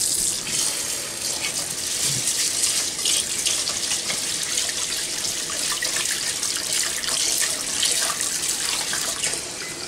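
Cold tap water runs steadily into a bowl of Japanese rice being rinsed, a continuous close hiss and splash at moderate level with no talk.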